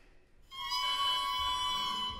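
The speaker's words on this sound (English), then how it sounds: "They use a double reed, which vibrates when they blow into it and sounds like this." An oboe double reed played alone without the instrument, giving a steady, buzzy, nasal tone held for nearly two seconds, close and fairly loud, with a reedy, harmonic-rich edge.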